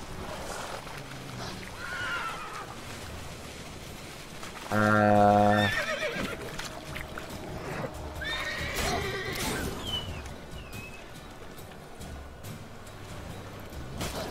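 A horse in the video game Witcher 3: Wild Hunt lets out one loud, close whinny midway through, over quieter game ambience with faint clip-clop and brief voice sounds.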